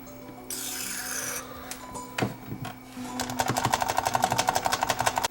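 Switches on a 1979 Technics RS-M63 three-head cassette deck being cleaned, with faint rasping and rubbing, a few clicks and knocks, then a fast, even run of scratchy strokes, close and quiet with no talking.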